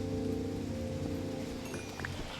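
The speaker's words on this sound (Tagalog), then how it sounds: "Lakas ng ulan dito." Heavy rain in the video game Minecraft falls steadily in a constant hiss, with a few faint taps and rustles near the end, and no voices.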